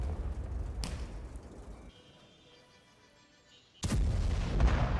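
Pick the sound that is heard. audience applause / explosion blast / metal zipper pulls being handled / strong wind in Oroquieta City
explosion blast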